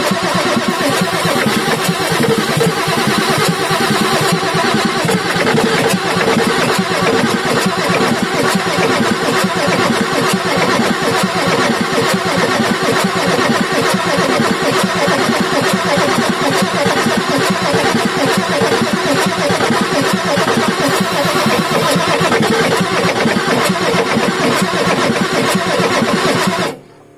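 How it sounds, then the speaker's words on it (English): A Ford F350 with a 6.9L IDI diesel engine, its starter cranking steadily and loudly for nearly half a minute with a dense, continuous mechanical churn and no voices. "let me let that starter cool down"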